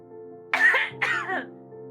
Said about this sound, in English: she'll cough again